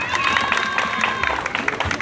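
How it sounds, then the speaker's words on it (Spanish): Outdoor crowd at a Zaachila neighborhood convite applauds a little boy at a carrizo prize-giving, brisk clapping with some cheering and nearby voices throughout. "Aplauso para este pequeñito."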